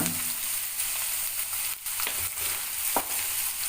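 Chopped vegetables frying in a pan for egg fried rice, lightly salted, give a steady close sizzle with a few soft stirring scrapes over the top, no talking.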